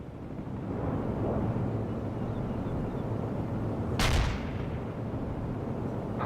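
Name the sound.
artillery strike in a video game (World in Conflict)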